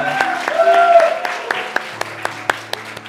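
Applause rises at a Sunday school graduation during a church service in Philadelphia, with scattered hand claps that thin out to a few sharp, separate claps over a soft background tone.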